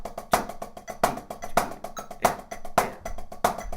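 A snare drum plays quick, even sixteenth-note taps with louder accented hits recurring in a repeating pattern, crisp and close, with no voices.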